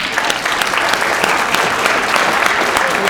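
An audience gives a dense, steady round of applause as a volunteer is called up on stage, continuous clapping filling the room at a consistent level.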